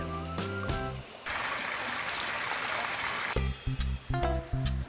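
Stream water flows steadily in a broad rushing wash for several seconds outdoors in Tarlac, framed by loud musical tones at the start and end.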